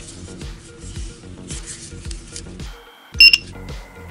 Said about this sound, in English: Press the sync button until you hear the beep.